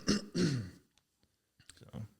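Someone clears their throat twice in quick, harsh rasps, then after a short pause gives a few softer coughs, close by.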